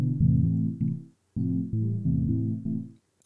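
A synth pluck patch built in Serum to mimic an analog synth, with short decay, low sustain and a little release. Repeated harmonic plucked notes play in a rhythmic pattern, each decaying quickly, with a brief gap midway and no voice.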